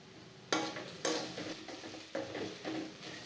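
Okra sautés in oil in a pan, with a low sizzle broken by several sharp scraping stirs of a utensil against the pan, moderately close and without talk.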